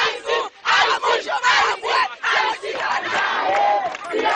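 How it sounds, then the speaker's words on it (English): Crowd gathered at a political protest in Haiti demanding the former president's return, shouting and chanting together in loud, dense bursts with brief dips between surges. "a crowd gathered to make their views heard"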